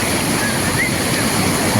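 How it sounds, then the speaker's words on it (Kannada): Overflow water from a historic lake spilling over forest rocks like a waterfall, a loud continuous broadband rush with no breaks, close to the microphone. "ಜಲಪಾತಾರದ ರೀತಿ ಸೃಷ್ಟಿಯಾಗುತ್ತೆ ಬಂಡೆ ಅಲ್ಲಿ ಕಾಡು ಬಂಡೆ ಇದೆ ಆ ಬಂಡೆ ಮೇಲೆ ಬಿದ್ದಂಥ ನೀರು ಮುಂದೆ ಹೋಗುತ್ತೆ"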